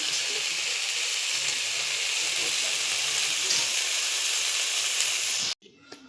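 Beans, kohlrabi and potato sauté in a pan for a fish curry, giving a steady, loud broadband sizzle and hiss that runs unbroken for over five seconds before cutting off abruptly, followed by faint quieter residue.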